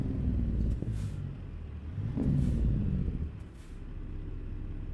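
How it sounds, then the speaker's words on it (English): A truck's jake brake in American Truck Simulator, a low throbbing engine-braking rumble that swells and fades twice with brief hissy bursts above it. "Jake Brake does a good job."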